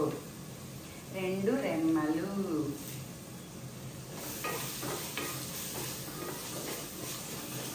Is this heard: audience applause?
no